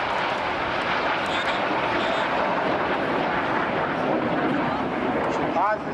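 RAF Red Arrows jets fly at the Blackpool Air Show with a continuous loud roaring engine rumble that fills the air, while an announcer talks over the display.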